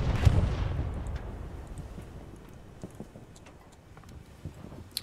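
Explosions from a bombing run in the Hell Let Loose video game open with a heavy boom that fades into scattered distant blasts and small crackles.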